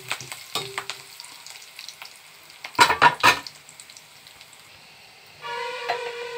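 Onions and curry leaves frying in a pan for sambar, a steady sizzle with a burst of sharp crackles near the middle and a brighter, louder hiss starting toward the end.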